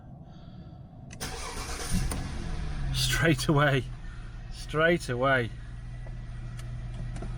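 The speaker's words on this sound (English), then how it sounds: "the engine sounds really nice and it starts first time every time" A 2005 Jaguar XJ engine cranks and catches first time, then settles into a steady idle while someone speaks briefly over the running motor.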